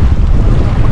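Strong wind gusting over a rock in the middle of the sea, a loud, steady roar buffeting the microphone throughout, with the wash of waves mixed underneath and no voices.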